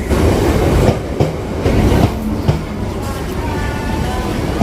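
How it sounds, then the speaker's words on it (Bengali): Train departing and running on tracks, heard close from inside a coach as a loud rumble with rhythmic clacks of wheels over rail joints and some faint background voices. "ট্রেন আমাদের ছেড়ে দিয়েছে"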